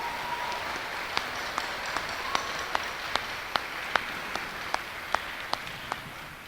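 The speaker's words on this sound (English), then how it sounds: "I'd just like to give Dave a round of applause for everything he does for the school" At a sixth grade Christmas school concert in Hebron, Indiana, an audience gives steady, sustained applause, a dense wash of clapping with a few individual claps standing out at a regular pace near the front.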